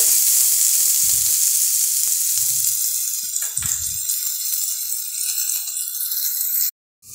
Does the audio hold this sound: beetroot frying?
yes